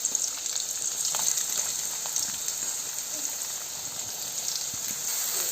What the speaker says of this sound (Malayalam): ഇഞ്ചി ഒന്ന് നല്ലതുപോലെ നമുക്ക് വറുത്തെടുക്കാം